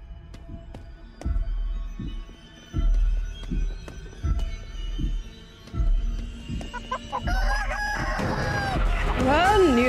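Heavy rhythmic thumps, like footsteps, pound through the horror stealth game Chicken Feet before the giant chicken bursts into a loud, wavering crow that carries to the end.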